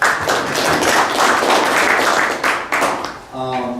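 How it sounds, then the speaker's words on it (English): Audience clapping at a tech meetup in Portland, a dense, close wash of applause that fades in the last second as a voice begins speaking. "Let's give a round of applause for everyone."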